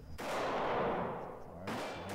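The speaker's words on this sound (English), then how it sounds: "So we're gonna try and see if we can put some more shots right there." Two loud M&P Shield .45 ACP pistol shots fired at a target 25 feet away, each a sharp close crack with a long decaying ring, spaced about one and a half seconds apart.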